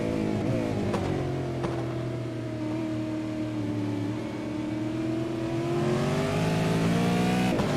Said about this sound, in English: Both these cars look nice and clean through that roller coaster portion of the track